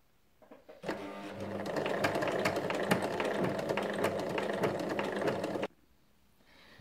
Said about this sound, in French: on vient piquer le morceau de scratch tout autour à 1 mm